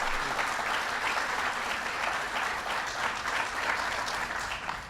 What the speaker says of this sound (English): so give Joe Biden a big round of applause.